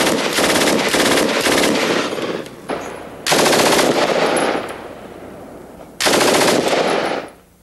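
Stoner 63 light machine gun, stripped of its cradle and tripod, fires three long sustained automatic bursts, loud and close, separated by short pauses with echoing decay.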